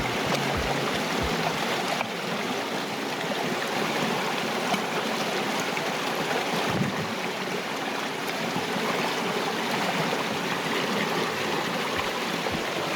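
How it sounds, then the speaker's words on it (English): A small stream of water running over bedrock at the Lyell River, a steady close gurgling rush that stays even and unbroken throughout. "You can see there's a bit of water flowing through it."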